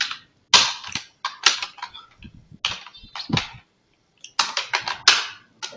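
Typing on a computer keyboard while writing text in MS Word: short clusters of crisp, close key clicks separated by brief pauses, heard alone without talk.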